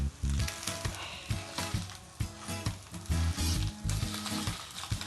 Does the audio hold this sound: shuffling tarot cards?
no